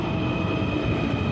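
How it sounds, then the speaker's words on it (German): A Munich U-Bahn U6 subway train rolls through an underground station with a loud, steady rumble and a high whining tone, heard continuously and close, with no talking. "Schöne Zug."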